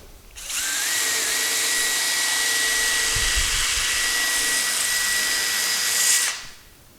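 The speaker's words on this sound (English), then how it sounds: "I'm actually going to chuck it up in my drill, put my wheel on it, piece of sandpaper" A power drill spins a wooden toy wheel against sandpaper for about six seconds, a high continuous whir with a faint sanding rasp, starting and stopping abruptly.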